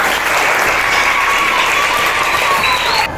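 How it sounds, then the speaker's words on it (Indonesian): Applause from a classroom of students at the end of a lesson on making magnets, steady dense clapping filling the space at close range, with a faint whistle-like tone gliding above it before it cuts off. "beri tepuk tangan buat kita semua"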